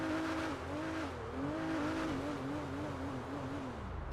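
A steady engine drone with a wavering pitch that rises and dips repeatedly, like a car revving continuously, with no talking. The engine is from the MonstroCiti off-road podium car in GTA 5 Online, based on a car almost 30 years old.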